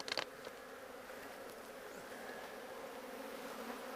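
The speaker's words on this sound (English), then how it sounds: "there are a lot of bees in here though" Bees buzz inside a hive, a soft continuous drone with a few faint clicks near the start, quiet and steady throughout.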